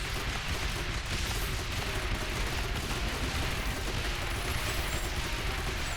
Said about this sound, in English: A lot of mortars going up and down